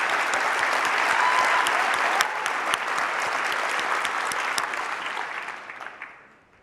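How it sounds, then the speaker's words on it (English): Sustained applause from a conference keynote audience, dense and steady clapping that fills the hall for several seconds before fading out at the end. "Another round of applause for Mike, Colleen, Tess, and Matisha."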